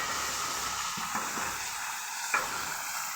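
Tomato and onion paste curry frying in a pan, a steady broadband sizzle with a few soft stirring knocks, close and continuous with no talk.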